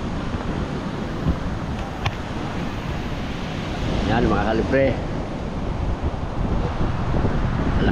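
Strong wind and surf during Typhoon Ompong, a constant roaring rush of gusts and breaking sea waves buffeting the microphone, with a voice briefly heard partway through.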